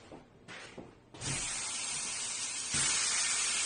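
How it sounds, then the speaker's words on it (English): Beef fillets hit a hot pan with a sudden loud hiss that settles into a steady, bright sizzle, swelling again near the end as more meat is laid in. "now we're going to sear them off in a hot pan"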